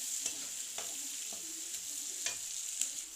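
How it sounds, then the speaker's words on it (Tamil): Onions and garlic sauté in a hot pan with a constant high sizzle. About five sharp scrapes of a spatula break in at irregular gaps as the pieces are turned, close by, with no voices. "வெங்காயம் நல்லா கொஞ்சம் வதங்கணும்."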